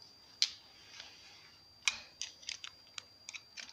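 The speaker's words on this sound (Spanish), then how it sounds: "Y debe de escucharse el clic." Sharp metallic clicks from a part of a disassembled four-stroke motorcycle engine being snapped into place, a single clear click followed by several lighter taps and ticks, close and fairly faint.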